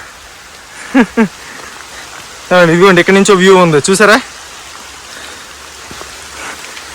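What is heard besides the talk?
rain falling at a lake island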